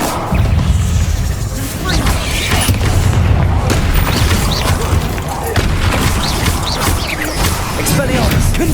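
Bombarda and Confringo spell blasts in Hogwarts Legacy, loud booming explosions and crashes one after another amid combat, with a voice calling out over the continuous din.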